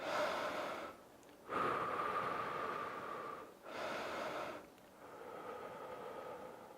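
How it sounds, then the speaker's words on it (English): Deep breaths after a home fat-loss workout, drawn in through the nose and let out through the mouth, come in about three long, close, soft airy cycles separated by brief pauses. "Let's get some breathing in. So in through your nose,"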